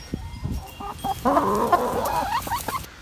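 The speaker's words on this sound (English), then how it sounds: "Got a wayward chicken over here" A chicken clucks and chatters up close in a quick, rising series of calls, with some rustling in the background.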